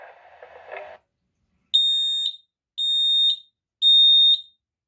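A talking smoke alarm sounds three loud, piercing electronic beeps in a steady rhythm, each lasting about half a second, following a brief burst of muffled noise.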